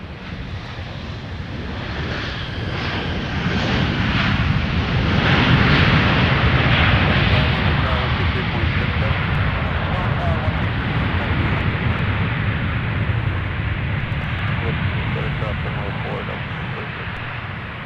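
A Sun Country airliner in Tide Pod livery arrives at Minneapolis–St. Paul airport from Tampa with a broad, rising jet roar. The roar swells to a peak, then slowly fades, and a commentator talks over it.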